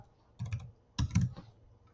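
Two short bursts of close keystrokes on a computer keyboard, entering part of a name in a Google Sheets search, each a quick cluster of soft clicks separated by a brief pause.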